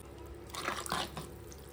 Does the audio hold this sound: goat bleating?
no